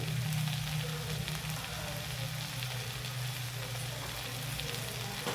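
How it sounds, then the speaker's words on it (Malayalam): Ginger garlic paste fries with sautéed onions in a pan, giving a loud, continuous close-up sizzle that holds steady throughout with no voices. "അപ്പോൾ ഇതിലായിട്ട് നമ്മൾ ഇടണ പോണത് ഇഞ്ചി വെളുത്തുള്ളി അരച്ചെടുത്തതാണ്."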